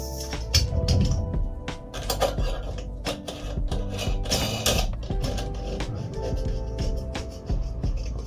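Screws are driven to fix wooden boards onto a coffee trailer, making irregular close clicks, clinks and scraping knocks of hardware and tools against wood over a constant low background hum.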